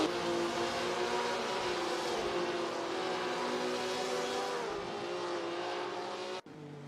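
Race cars lapping Silverstone in a sim racing game: a steady, loud, high engine drone held for several seconds, then cutting off abruptly near the end, with no talk.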